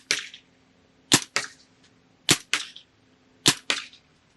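A Planet Eclipse Ego LV2 paintball marker fires on semi-auto: three pairs of sharp, loud pops, each quickly followed by a second shot, with clear pauses between pairs and a faint hiss after each.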